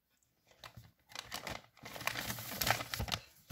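A large paper envelope from an advent calendar is torn and opened, giving crinkling, rustling paper sounds that build from faint handling to a steady, fairly close tearing with no talk.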